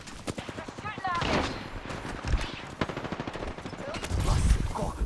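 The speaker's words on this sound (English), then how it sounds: "They're shooting at me." Rapid gunfire in a ring-racing shooter match, bursts of shots cracking repeatedly over a busy game mix, with people talking throughout.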